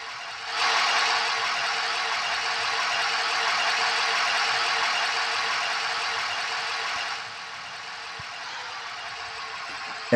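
A car engine idling at high RPM with its coolant temperature sensor unplugged, producing a steady, moderately quiet mechanical hum and hiss that holds for several seconds and then drops to a lower idle.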